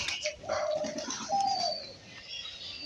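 Pigeons cooing as they feed, soft rounded coos rising in two clear phrases over a light patter of pecking and shuffling, close by with no talk.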